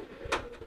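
A pet pigeon sitting on its eggs gives a single brief, soft coo, close by against quiet background hum.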